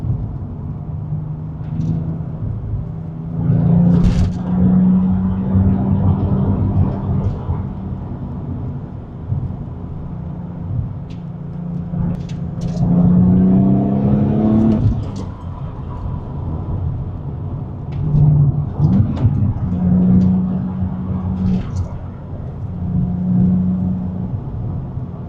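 A Porsche 996 Turbo with all-wheel drive accelerating hard, heard from inside: a loud, steady engine drone rising in pitch through the gears, with a few brief shifts and thumps.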